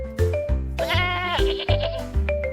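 Goats bleat loudly and close by in several wavering, overlapping calls, one long drawn-out cry in the middle framed by shorter bleats.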